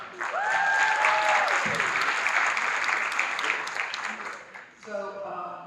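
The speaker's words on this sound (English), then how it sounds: "So let's clap it up one more time for Luch." Audience applause at a Chicago P.D. convention panel, a dense sustained wash of clapping from a crowd, loud and steady, easing near the end, with a few voices cutting through.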